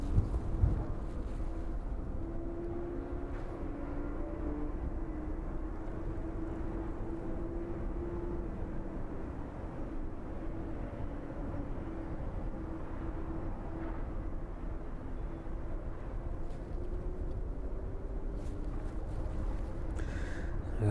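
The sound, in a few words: aircraft approaching to land at East Midlands Airport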